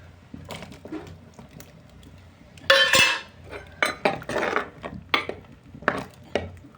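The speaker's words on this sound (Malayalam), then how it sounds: "ഇനി നമുക്ക് മാങ്ങ ഇടാം." Mango pieces go into a pot of simmering prawn curry with clanks and clinks of a metal spoon against the pot, several sharp, close knocks and scrapes over a quiet background, and no voices.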